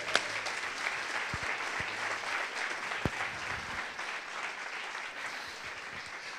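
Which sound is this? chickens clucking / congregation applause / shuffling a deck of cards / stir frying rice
congregation applause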